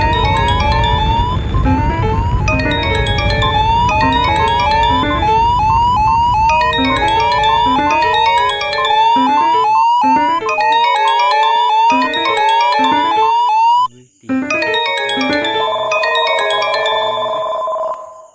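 Earthquake early warning alarm from a simulated magnitude 7.6 quake: a loud, repeating electronic chime-and-siren tone pattern, sounding continuously with one brief break near the end.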